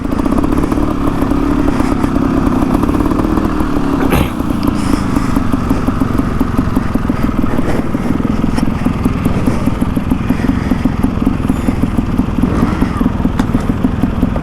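A Beta 250RR two-stroke trials dirt bike runs close by with a loud, steady buzzing engine, rapid firing pulses and occasional clattering thumps as it is ridden over a motopark course.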